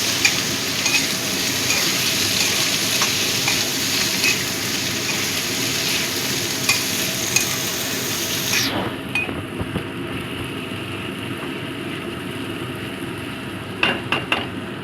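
Chopped tomato is stirred into an aamudi fish curry in a frying pan. A loud, continuous sizzle carries repeated metallic stirring scrapes and knocks, and the hiss drops noticeably partway through.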